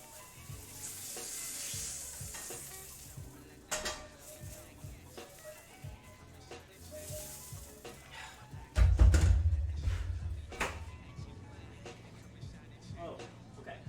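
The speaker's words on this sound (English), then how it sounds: "I'm also going to grab this scraper and scrape a little bit because I don't want it to start on the cast iron" Burgers sizzle on a cast iron griddle in a burger shack kitchen, a steady hiss punctuated by sharp metal scraper strokes, with a loud burst of scraping and clatter near the end; people talk over it.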